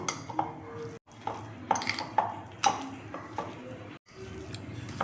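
Sandwich filling with mayonnaise and salt is stirred in a bowl, making repeated clinks and scrapes of a spoon against the dish in an uneven rhythm, with a couple of brief silent gaps.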